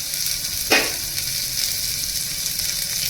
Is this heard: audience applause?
no